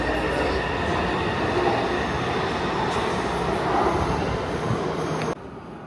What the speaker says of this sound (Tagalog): Ayan na yung tren niya. Padating na.